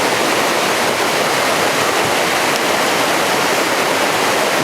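The Casaga River rushing steadily in wilderness, a loud, dense, continuous roar of flowing water filling the whole moment, with no voices.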